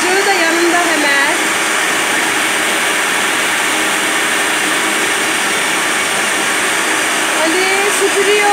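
A steady, loud motorized whine from a real household vacuum cleaner, used by a child, runs continuously throughout, with faint voices audible underneath.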